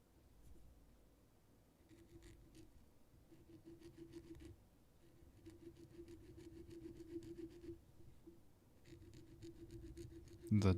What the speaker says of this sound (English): The diamond file from Tamiya